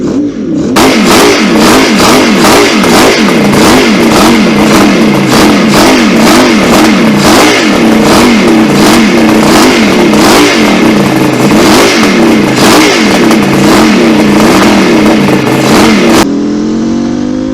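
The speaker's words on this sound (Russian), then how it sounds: "Представляю вашему вниманию творение Алана Милларда, который взял и соединил 2 трехцилиндровых двигателя от Kawasaki H2750." A two-stroke motorcycle built from two joined Kawasaki H2 750 three-cylinder engines revs loud and close, with repeated rising and falling blips that rasp and clatter for about fifteen seconds before cutting off.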